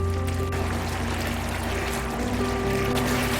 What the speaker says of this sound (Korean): 전분물을 넣어주시는데요